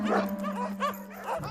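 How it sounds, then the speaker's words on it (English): Several dogs in a Christmas movie bark and yip in quick, close bursts over a steady background hum, with a few whimpering notes in between. "we get this really amazing shot of what these dogs running around sounds like from Bone's perspective"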